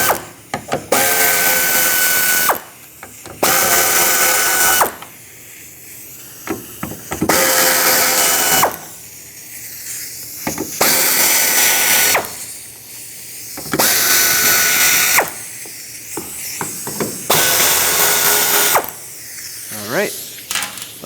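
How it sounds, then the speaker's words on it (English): A ratchet backs out the 8mm bolts around the fuel pump of a 1997-2001 Lexus ES300. Loud, close bursts of about two seconds repeat with short pauses between them. "Remove the remaining 8mm bolts that are all around."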